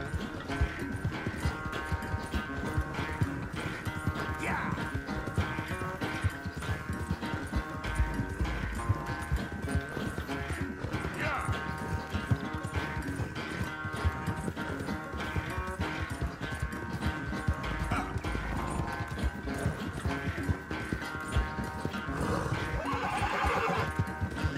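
A horse gallops in Red Dead Redemption 2, its rapid rhythmic hoofbeats pounding steadily under a sustained musical score, with occasional snorts and whinnies breaking through near the end.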